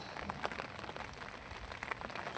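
Rain falls on rooftop garden plants, a faint, steady patter of drops with soft scattered taps on leaves and surfaces, quiet and uniform throughout.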